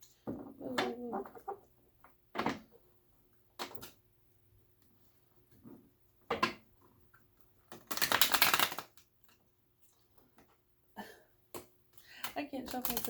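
Cards are shuffled in short bursts of riffling and slapping, including one longer flurry, separated by quiet pauses and occasional speech.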